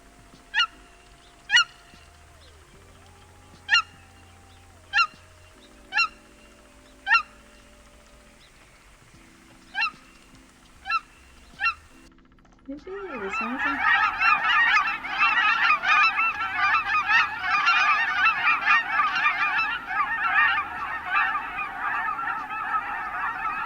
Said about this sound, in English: what makes a cackling goose, the reason why they're called that and they're distinct from Canadian goose, is their call